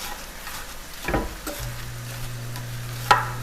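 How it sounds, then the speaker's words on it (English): Hash browns tossed in melted butter in a pan for a breakfast sausage casserole: a soft sizzle, a couple of scraping stirs, a low steady hum, and a sharp metallic clink near the end. "I'm going to give that a little toss in the butter"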